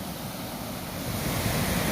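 Steady rushing water flowing into a canal during rain, a broad continuous roar like flowing current, with some wind noise and no voices.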